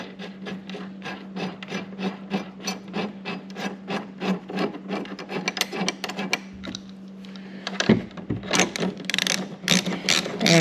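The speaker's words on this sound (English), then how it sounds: "And finish it up with your favorite ratchet." A ratchet tightens a bolt on a C7 Competition seat, giving a steady run of rapid, close mechanical clicks that ends in a brief burst of handling noise.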